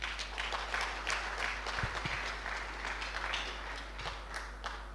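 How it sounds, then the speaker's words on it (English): An audience at an alumni homecoming seminar breaks into sustained applause, a dense, even wash of clapping from many hands that continues throughout under a low electrical hum. "Ladies and gentlemen, a big round of applause again."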